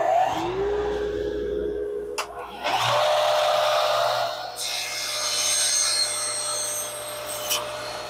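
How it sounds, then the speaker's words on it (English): A woodshop dust collection system runs as a steady, loud whooshing drone while a saw squares up the end of a cribbage board blank, with a brief motor spin-up at the start and occasional knocks. "I'll turn on my dust collection system and square up this end."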